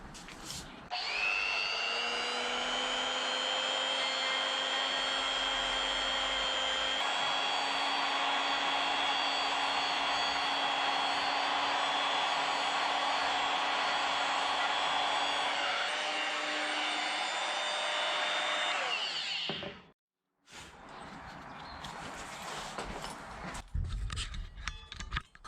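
Power sander smoothing a burr inside a TD04 turbo wastegate for a Toyota Starlet 4E-FE build, a steady high whirring drone for about twenty seconds, close and loud, then stopping and followed by scraping noises.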